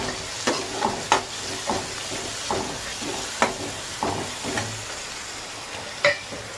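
Chopped green chillies are stirred into frying kothu parotta and sizzle in the pan, with a soft, steady hiss broken by repeated clanking scrapes of a utensil at an irregular rhythm.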